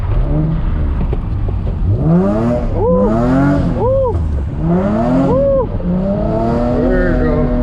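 At night a car drifts through the streets, its engine revving hard in repeated rising and falling sweeps, loud and close from inside the car, with the occasional squeal of tires.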